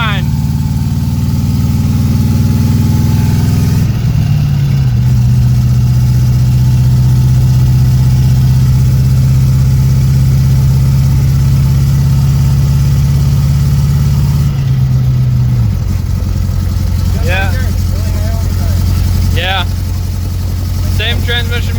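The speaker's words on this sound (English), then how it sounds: "we are testing out the 5-speed in the 2nd gen." A second-generation F-body car fitted with a swapped-in T-5 five-speed manual runs with a loud, sustained engine drone that shifts pitch at several points as it moves through the gears. Voices come through faintly near the end.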